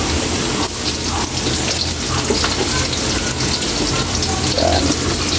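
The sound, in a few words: garlic and onion frying in a pan for beef papaitan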